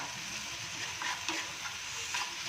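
Ginger garlic paste and onions sautéing in a pan over high heat for egg bhurji, a steady soft sizzle with a few light stirring scrapes, no talking.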